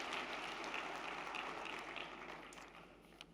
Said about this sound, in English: Can we give UNISA an applause for that?